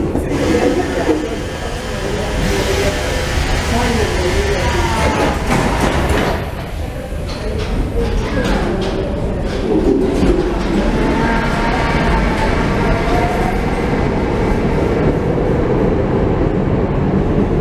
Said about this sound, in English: Here comes our train again.